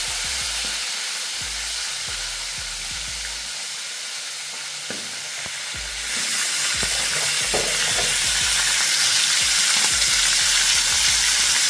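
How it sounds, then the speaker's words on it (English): Fish frying in a pan outdoors during a rain shower, a loud, dense sizzle with repeated scraping, stirring knocks throughout and the hiss swelling louder in the second half. "I fry the fish them, you know."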